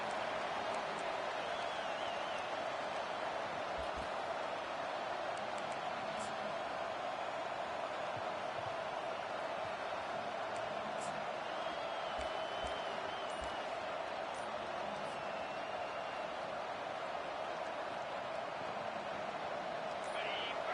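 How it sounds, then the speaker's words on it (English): A packed American football stadium crowd roars steadily through a kickoff return, a dense, continuous wall of cheering that holds level throughout, while a commentator talks over it. "This crowd trying to show them what it's going to be like all day in this house"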